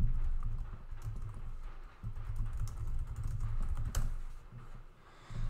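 Rapid, irregular clicking of keys on a computer keyboard, close and continuous for several seconds over a low background hum, with no talk.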